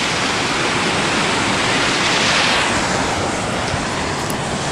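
A waterfall near Canta, Peru, roars as a steady, dense broadband wash of falling water, loud and close, continuous throughout with no voices.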